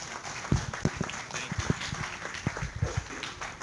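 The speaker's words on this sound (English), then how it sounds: "let's give them a round of applause" Scattered, sparse clapping from a small lecture-hall audience in an engineering class, individual claps standing out unevenly over a few seconds.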